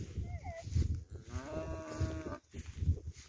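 Cattle being sorted in a farm corral, low moos and bleating calls that sit under close conversation in Portuguese, moderately faint, with a voice speaking over the animals.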